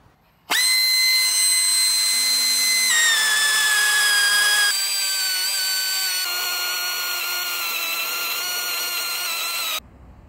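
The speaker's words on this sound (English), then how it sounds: "I've got this nifty little cutter I got off eBay, and it is used for chamfering the edges of plates." A small chamfering cutter works the edges of metal plates for line borer bearing mounts, giving a loud, steady high-pitched whine with strong tonal harmonics that shifts pitch a few times and stops abruptly near the end.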